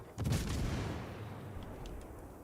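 Heavy naval guns from a World of Warships: Legends battle boom once loudly near the start, followed by a long rumbling tail and fainter distant shots, with no voices.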